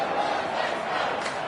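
Crowd cheering in AFL Evolution 2 after a Carlton goal against St Kilda, a steady distant stadium roar that holds evenly throughout.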